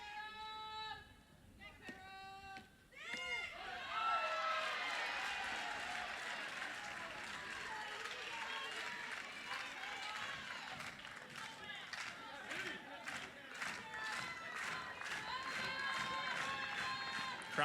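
Softball crowd applauding and cheering steadily at a college game between Missouri and Mississippi, a broad sustained wash of clapping with scattered shouts, building late in the inning.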